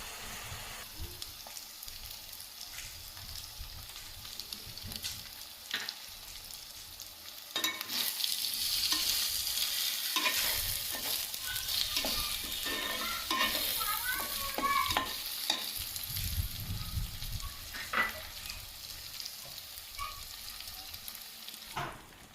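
Fish frying in a pan for a Srikakulam-style fish pulusu, with a steady sizzle and scraping stirs that swell louder midway, close and without talk.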